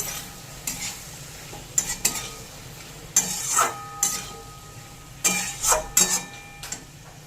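A spoon stirs small mourala fish with chilli and turmeric powder in a pan, several distinct scraping clinks against the metal over a soft background sizzle, close up and without talk.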